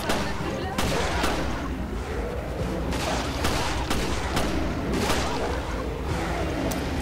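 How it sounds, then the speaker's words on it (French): Sniper rifle shots in Resident Evil Revelations, several sharp cracks spaced irregularly through a dense, loud wash of game noise and combat sounds. "elle est en train d'utiliser son sniper, je crois"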